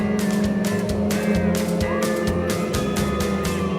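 CDCRA dwarf race cars roar around the track at Perris, California, engines revving loud and close in a continuous pack, with repeated bursts as cars sweep past.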